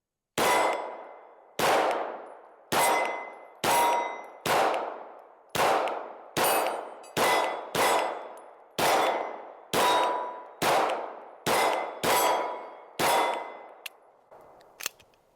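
A Kimber R7 Mako Carbon Compact pistol fires about fourteen sharp, ringing shots in quick, fairly even succession. Each shot decays briefly and no one talks over them.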